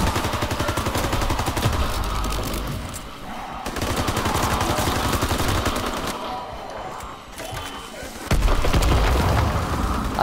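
Rapid bursts of gunfire in Call of Duty: WWII zombies mode, loud and nearly continuous with sharp booms, while players talk over the shooting.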